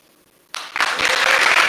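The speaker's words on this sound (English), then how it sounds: "Applause!" Applause breaks out for an award winner at a livestreamed pitch competition, starting with a sharp onset of scattered clapping that quickly swells into full, sustained audience applause.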